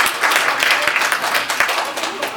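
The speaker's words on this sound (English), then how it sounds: "So give a round of applause for teachers." Audience applause for teachers at a Lakewood Board of Education meeting, a dense steady wash of clapping from a room of people with a few sharper individual claps near the front.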